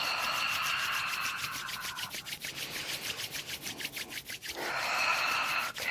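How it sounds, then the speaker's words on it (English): Palms of the hands rubbing briskly together to build warmth during a relaxation exercise, a steady close dry swishing that slows into short strokes midway, then resumes strongly, with no talking. "So rub the palms together, create some heat."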